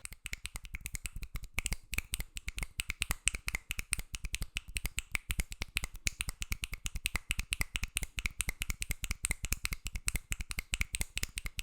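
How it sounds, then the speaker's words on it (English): Rapid double finger snapping, the ring finger snapping and then the middle finger, producing a steady, fast stream of sharp, close, crisp snaps that runs unbroken, without talk. "He is snapping his ring finger and then using that momentum to also snap his middle finger, kind of doing like a double stroke roll with finger snaps"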